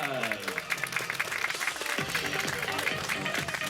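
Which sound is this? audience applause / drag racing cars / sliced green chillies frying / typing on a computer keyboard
audience applause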